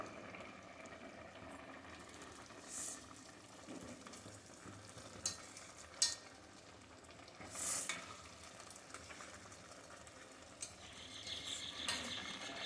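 Water for paneer pulao boils in a pot, a faint, steady bubbling simmer with a few soft louder pops and bursts scattered across it, heard alone without talk.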